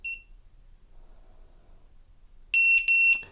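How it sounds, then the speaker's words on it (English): An FPV drone's lost-model beeper sounds a short tonal beep, then after a long silence gives a loud burst of sharp, repeated high-pitched beeps, very close and with nothing else audible. "it should activate the beeper function"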